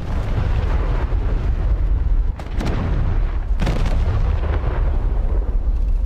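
Ships fire naval guns in a video game: two sharp, heavy booms land about a second apart amid a constant loud rumble of battle, with no talking over them.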